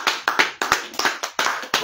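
A small group claps in a brisk, uneven rhythm, about eight distinct close-up bursts of hand claps packed into under two seconds.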